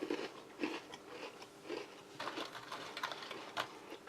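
Crisp bites and crunchy chewing of a light, dry ginger biscuit from a halal US military MRE, a string of irregular close crackly bursts with no talking.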